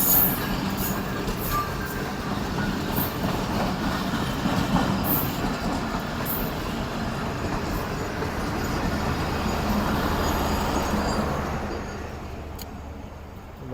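A passenger train rolls past at speed, a loud sustained rumble with rail clatter and clickety-clack from the wheels, steady for most of the pass before easing off near the end, with no voices over it.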